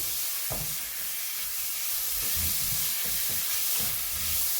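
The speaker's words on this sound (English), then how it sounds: "So we're searing the steak finally in a really hot pan" Steak searing in a very hot pan, a steady loud sizzle and hiss throughout, with scraping and stirring knocks from the meat being moved around.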